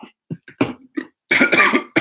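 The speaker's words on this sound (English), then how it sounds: "I hate to cough this morning." A few short, harsh coughs, close by, broken by quiet gaps and ending in a louder burst of throat clearing.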